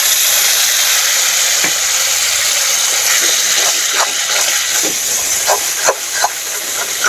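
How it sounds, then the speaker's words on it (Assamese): Masala for a home-style chicken gravy sizzles and fries steadily in a pan, a dense continuous hiss with scattered crackles and occasional stirring scrapes, close and loud throughout. "মছলাটো এতিয়া ধুনীয়াকৈ ভাজি ল'ব লাগিব"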